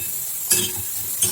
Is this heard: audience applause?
no